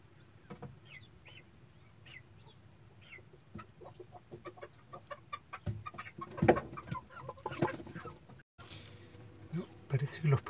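A hen clucks softly in short, scattered calls beside newly hatched chicks on a cold early morning, with faint peeping and a person talking quietly nearby.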